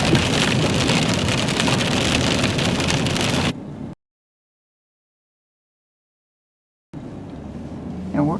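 Steady rain patters on a surface, cutting to silence for a few seconds before the rain returns, no talking.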